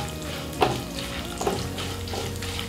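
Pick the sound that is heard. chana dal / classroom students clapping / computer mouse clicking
chana dal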